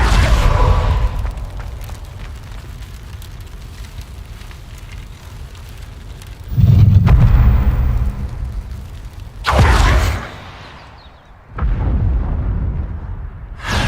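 Confringo blasting spell in Hogwarts Legacy, several loud booming bursts with a crackling fiery rush, separated by quieter rumbling stretches.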